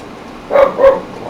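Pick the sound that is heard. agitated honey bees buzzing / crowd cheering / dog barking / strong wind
dog barking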